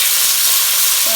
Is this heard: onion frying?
yes